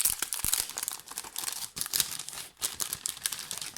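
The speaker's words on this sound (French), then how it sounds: "je vais vous déballer, je vais vous montrer ça" Crinkly plastic packaging for scrapbooking embellishments being unwrapped up close, a steady run of crackling, rustling and tearing sounds with brief pauses, no talking.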